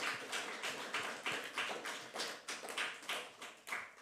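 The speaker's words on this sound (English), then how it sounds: "Let's give our pastor a warm round of applause for his sermon today." A church congregation applauding the pastor after his sermon, a steady patter of many hands clapping in quick, even rhythm, fairly soft and slightly distant, with no voices over it.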